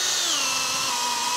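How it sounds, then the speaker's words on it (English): A power drill whines at high speed as it bores into cedar wood, a loud close steady pitch that sags slightly under load over a brief burst. "I've got my drill set up."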